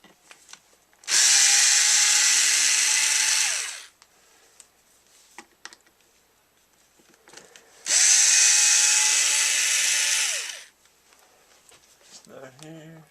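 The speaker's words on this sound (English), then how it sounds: "So I'll get my screwdriver here. Hope the battery's charged." A battery-powered screwdriver backs screws out of a Schumacher DSR ProSeries PSJ-2212 jump box. It gives two close, loud whirring bursts of about three seconds each, with a pause between them and faint handling noises around them.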